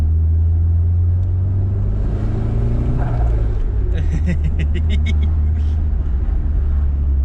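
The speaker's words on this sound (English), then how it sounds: "We'll give it a little spool and see how it sounds." A Nissan 180SX with an S15 T28 turbo fitted, running as a heavy low engine rumble that climbs briefly in a short rev with rising turbo whine, close by, while someone speaks over it.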